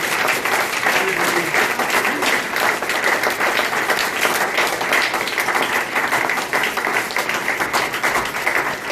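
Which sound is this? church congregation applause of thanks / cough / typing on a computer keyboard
church congregation applause of thanks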